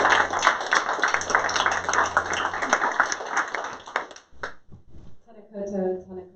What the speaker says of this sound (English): Please give Julianne a round of applause